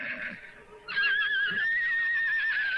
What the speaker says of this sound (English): Awful lot of horse noise.